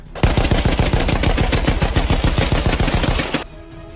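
Machine gun fire from a WWI air combat game: one long, loud, evenly paced burst of rapid shots, close and continuous, ending abruptly into quiet.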